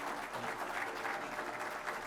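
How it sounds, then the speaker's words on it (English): An audience at a Brookhaven mayoral candidate forum claps steadily, a dense wash of applause at moderate loudness that fills the whole two seconds without speech on top. "So a round of applause for the candidates for mayor of Brookhaven."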